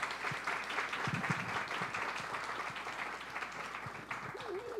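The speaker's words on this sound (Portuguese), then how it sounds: "Vamos agradecer com uma salva de palmas" Congregation applause at the opening of the 2019 Fraternity Campaign, a faint, distant wash of many hands clapping in a large hall, with a few closer claps and murmuring voices beneath.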